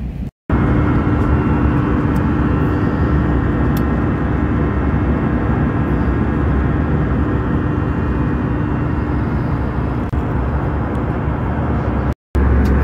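Steady loud cabin roar of an airplane in flight, a constant broadband drone with a faint low hum, unbroken except for two brief cuts.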